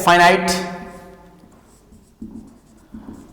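Chalk or marker strokes on a board during an engineering mathematics lecture on sequences and series, appearing as short scratchy bursts after a teacher's voice fades out.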